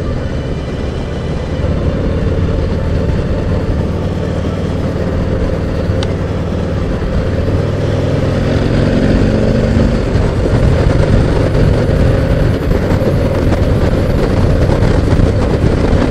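Steady engine and road rumble from a 2018 Harley-Davidson Heritage 114 motorcycle on a test ride, with broad wind noise rising slightly as it pulls forward. The sound is continuous and close.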